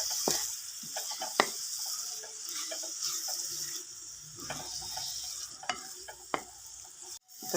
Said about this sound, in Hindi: और यहाँ मैं सारा साग जो है ना वो डालूँगी और उसको मैं भूनूँगी।